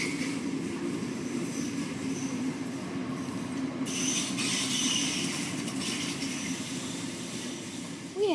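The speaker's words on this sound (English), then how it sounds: "Sounds to me that we have a train approaching." A Sydney Waratah passenger train passes through Newtown station, its wheels and carriages rumbling steadily with a faint squeal at the end, moderately loud and continuous.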